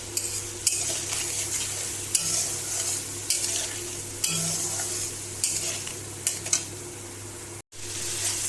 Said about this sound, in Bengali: টমেটো কটাও দিয়ে কষিয়ে নেব